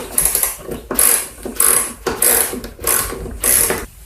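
A ratchet wrench loosens bolts on a Troy-Bilt TB210 tiller, six or so close, crisp clicking bursts in a regular back-and-forth rhythm with short pauses between strokes.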